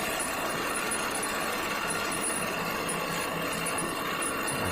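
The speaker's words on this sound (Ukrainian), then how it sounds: "Копалка працює на 760 оборотів" A Bomet potato digger runs at 760 rpm behind a tractor crawling in low first gear, giving a steady, moderately distant mechanical rumble and rattle with no talk.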